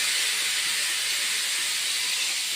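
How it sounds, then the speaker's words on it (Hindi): A loud, steady high-pitched hiss of steam venting continuously, like a pressure cooker whistle blowing without pause, from a pressure cooker with potatoes, cauliflower and water inside. "आलू गोभी डालने के बाद मैं इसमें एक सीटी लूँगी"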